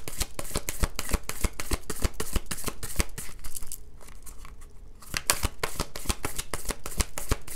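Tarot cards being shuffled up close in quick, rhythmic riffling bursts with a brief quieter pause midway, a crisp papery flutter and snap repeated throughout.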